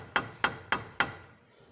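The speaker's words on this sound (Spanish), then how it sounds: "Y ya solamente con un martillo, con lo que tengan ahí." Four evenly spaced metallic hammer taps close a CV joint boot retaining clip, sharp and close with a short ringing decay after each strike.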